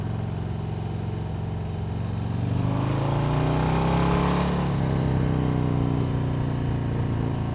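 A 2025 Harley-Davidson Low Rider ST motorcycle out riding on the road, its engine a steady loud drone that swells in pitch and volume mid-ride as it accelerates, then settles back, with wind noise throughout and no talking.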